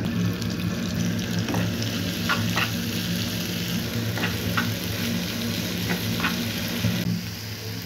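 Chopped sweet gourd, carrot, cauliflower, potato and snake gourd hitting a hot pan, a loud continuous sizzle with repeated scraping stirs of a spatula, easing off at the end, no speech.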